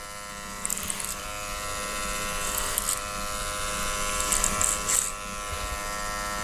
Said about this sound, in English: with my clippers set to 0, I'm just going to set in that baseline